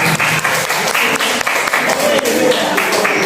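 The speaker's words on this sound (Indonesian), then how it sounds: "Tepuk tangan dulu dong" A seminar audience at an academic procrastination psychoeducation event claps in a brisk, rhythmic beat that stays loud and even throughout, with voices mixed in.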